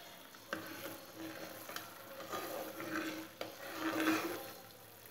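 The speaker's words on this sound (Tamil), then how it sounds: "சக்கரை நல்லா கரைஞ்சு கொதிச்சிட்ருக்கு" Sugar syrup boils in a pan while coconut burfi is made, with faint, quiet bubbling and light sizzling broken by a few small clicks and ticks.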